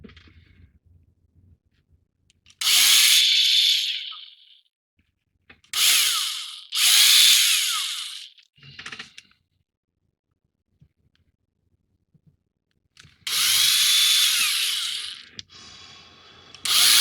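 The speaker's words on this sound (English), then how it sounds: "we're going to drill a little hole in the bottom" A small power drill whirs in several bursts of a second or two each, drilling a small hole in the bottom of a plastic 1/2500 scale Star Trek starship model, separated by quiet pauses, with no talking.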